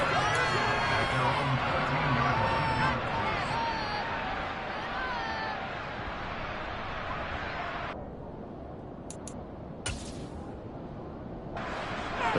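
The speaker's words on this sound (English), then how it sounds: "The crowd may be losing just a little bit of the edge after back-to-back punts." Stadium crowd at a Panthers football game, a broad steady roar of many voices filling the space, easing slightly partway through, with a commentator talking over it.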